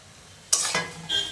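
Chopped tomatoes drop into a pan with curry spices and begin frying, giving a sudden bright sizzle followed by a steady crackle, close and brief.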